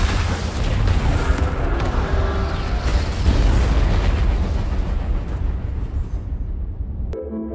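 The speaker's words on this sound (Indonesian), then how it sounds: "hingga akhirnya beberapa pesawat meledak akibat kebocoran bahan bakar." Several airplanes explode from a fuel leak in a film scene, producing a continuous loud, rumbling roar of blasts that fades out near the end, followed by a brief sharp sound.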